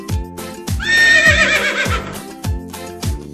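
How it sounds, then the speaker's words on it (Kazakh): A horse neighs once, a loud, shrill whinny rising and trembling for about a second, set against rhythmic hoof clip-clops and a repeating musical beat from a children's cartoon about farm animals. "Жылқы"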